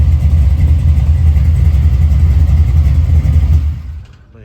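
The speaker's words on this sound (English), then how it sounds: "you gotta hear that motor" A big block Chevy V8 in a Chevy Caprice Landau on 28-inch wheels idles with a loud, deep, steady rumble up close, then cuts off and fades near the end.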